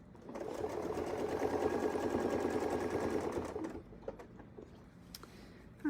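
A sewing machine stitches in a rapid, steady mechanical chatter for several seconds while quilting with Westalee Crosshair templates, then stops, leaving faint handling clicks and small movements.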